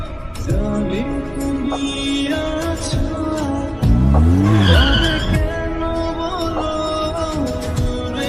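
A car's tires skid and squeal on a street, a loud, close screech rising suddenly midway over the steady hum of traffic and engine noise.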